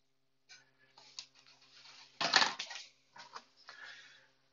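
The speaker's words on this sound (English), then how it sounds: "Stir that around." Shredded grouse is stirred into a thick pasta sauce in a quiet kitchen, with sparse soft scrapes and wet clicks of the utensil against the pan and one louder, brief squelching stir near the middle.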